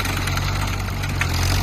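A 1941 Farmall H tractor engine runs at a steady idle, giving a continuous low, throbbing drone close by with no talking.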